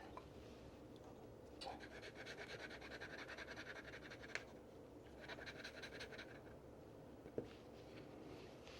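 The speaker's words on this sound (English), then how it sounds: "Maybe we'll just do a little bit of back and forth with the Kakamori nib." Fountain pen fitted with a Kakimori nib scratching back and forth across paper in quick rhythmic strokes, faint and close, in two main bursts with brief pauses between.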